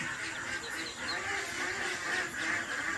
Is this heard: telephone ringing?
no